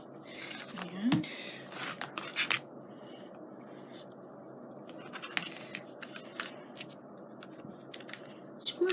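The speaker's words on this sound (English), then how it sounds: "I'm going to cut this on an angle." Scissors snip through paper at an angle while a scrapbook page for a bird memory book is made: soft close scratchy cuts come in short bursts amid quiet handling noise.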